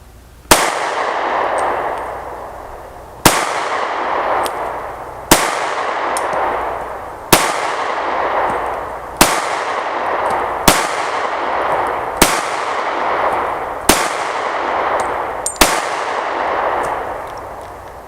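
Nine sharp, loud gunshots ring out one at a time about two seconds apart, each with a short echoing tail, fired at a target while testing a Crimson Trace RAD red dot sight on a CTS-1520 dovetail mount.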